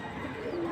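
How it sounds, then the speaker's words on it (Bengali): A Moyna jhak flying pigeon gives a brief low coo, close and fairly soft, over a faint background hiss. "এই হচ্ছে ময়না ঝাঁক কবুতর"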